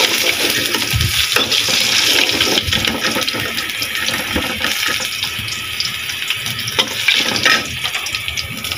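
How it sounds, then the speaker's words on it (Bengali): Fish frying in a pan, a dense, continuous sizzle with scattered crackles that stays loud and close throughout, with no voices. "আমার মেয়েদের জন্য মাছ ভাজি"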